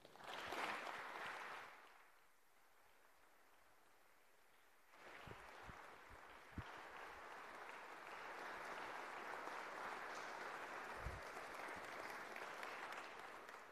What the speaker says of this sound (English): It always concerns me though when you applaud before the speech.